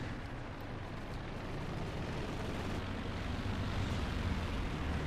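Continuous rumble of explosions and aircraft-like roar from a strafing run in Company of Heroes 2, a steady dense wash of blasts and engine noise with no voices.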